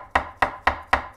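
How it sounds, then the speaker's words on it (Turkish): A cleaver chops mushrooms into thin slices on a cutting board: four crisp, evenly spaced knocks, close and clear with no talk. "Satırla çalışalım. Şöyle tutuyorum. Bunu da şöyle ince ince doğruyorum."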